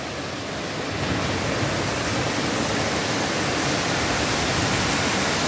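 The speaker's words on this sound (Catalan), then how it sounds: "Així hi ha una mini cascada." Small waterfall on the Buñol river, a steady, loud broadband rush of falling water that holds constant throughout with no voices.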